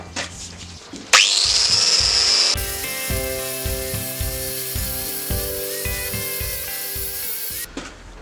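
A power tool spinning against a Ford Transit front hub face to clean it before a brake disc is fitted, a loud sustained whine with a rapid rattling pulse, starting abruptly and stopping near the end.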